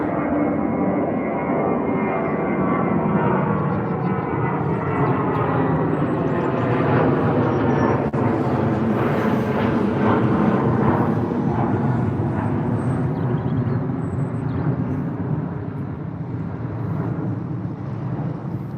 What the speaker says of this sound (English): just heading over us now is the A320 for British Airways heading off to Rome